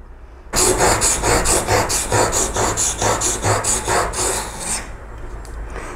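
A woodworking chisel rubbed back and forth on a sharpening stone, a loud, steady rasping scrape in even strokes that starts abruptly and fades at the end.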